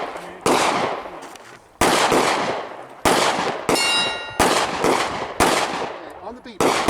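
An AR rifle fires repeated shots at a 10-inch steel plate 15 yards away, each loud crack followed by a ringing metallic clang, about seven evenly spaced hits.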